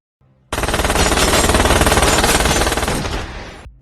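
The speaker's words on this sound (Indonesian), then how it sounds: "Hill pun tak luput dari tembakan Ballard." Sustained automatic gunfire from a shootout in a film: a dense, loud burst of rapid shots lasting about three seconds, starting abruptly and fading at the end.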